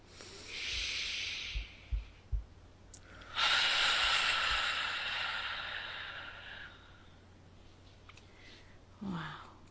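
Two long, deep breaths, a hissing inhale and a slow airy exhale, then a shorter sniff near the end, close and intimate over a quiet room.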